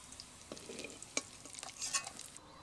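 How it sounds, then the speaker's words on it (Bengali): Chicken pieces fry in a pan of oil for chilli chicken, with a soft continuous sizzle broken by scraping stirs and a few sharp clicks, close by and alone. "চিকেনের পিসগুলোকে অল্প তাপে একটু সময় নিয়ে ভেজে নিয়েছি"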